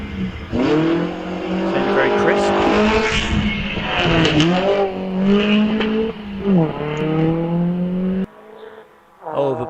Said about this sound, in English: waiting for the Riley to leave the start, and away it goes. Sounds very crisp.